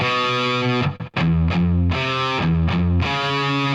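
Fast palm-muted distorted electric guitar riff, chugging low notes alternating with brief half-step higher accents, loud and tight with one short gap.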